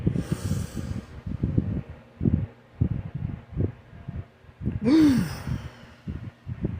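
Breathwork session with repeated audible breaths in and out, close and rhythmic, then a long voiced sigh or groan released on the exhale; no spoken words.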